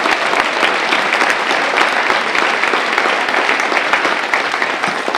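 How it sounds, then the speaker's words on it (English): A crowd of luncheon guests at a university Founders Day event applauds a woodwind quintet, steady dense clapping that fills the room loudly and evenly for the whole stretch. "Woodwind Quintet, let's give them a round of applause."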